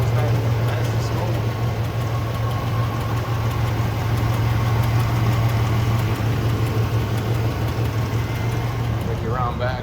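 The 4-barrel engine of a 1977 Pontiac Grand Prix idles with a steady, slow low rumble, close and loud, unchanging throughout, with faint background voices at moments.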